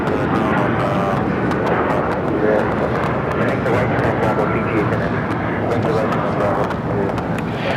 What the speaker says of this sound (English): That is United Airlines Flight 39 taking off to Tokyo Haneda on the 787-10 Dreamliner.